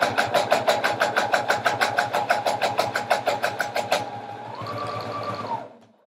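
A sewing machine runs in rapid, evenly spaced stitching bursts for about four seconds while sewing straight side seams on a pillow cover, then settles into a steadier whir before stopping.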